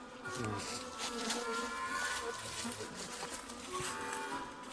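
Bees buzz around a hive, a close, steady swarm drone with individual bees whining past, loud and continuous throughout.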